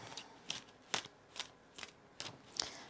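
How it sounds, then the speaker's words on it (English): A Labyrinth of Dragonshire tarot deck shuffled by hand, six crisp riffling bursts at an even rhythm, close and fairly quiet with no talking. "Let's just shuffle this and see what our first card out on the tarot board is"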